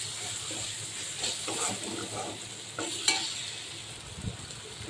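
Pointed gourd is sautéed in oil with chili powder and turmeric powder in a pan. Soft, close stirring scrapes sound over a gentle, continuous sizzle.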